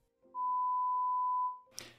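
A steady pure 1000 Hz audiometric test tone from a hearing test holds evenly for about a second, then fades out, heard alone before a brief faint noise at the end.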